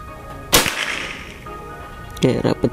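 A Predator Tactical Pajero Gun Gen 5 PCP air rifle fires one sharp, close crack that fades quickly. A few short knocks follow near the end.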